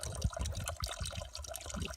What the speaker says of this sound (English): PVC pipe. Water sticking out, running out.